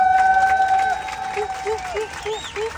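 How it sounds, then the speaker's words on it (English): Passengers on an aircraft cabin clap for a couple getting married, with scattered applause sitting low beneath sustained electronic tones and a run of short repeating chirps. "Give them a round of applause."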